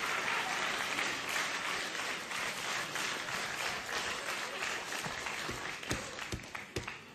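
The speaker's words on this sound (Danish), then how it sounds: "Folk begynder at klappe og gå ud af salen for helvede." A theatre audience at a live Danish comedy show with Søren Østergaard as Smadremanden fills the room with loud, dense applause that holds steady, then thins toward the end into a few distinct claps.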